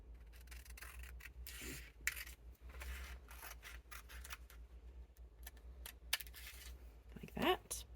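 Scissors snipping through fabric while altering a raglan sleeve, a series of quiet crisp cuts with pauses between them, close and faint, with a few sharp clicks and a brief rustle near the end.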